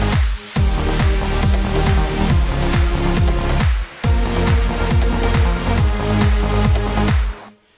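Loud electronic dance track with punchy kick and bass, where the full mix briefly drops out around the middle before pounding back in.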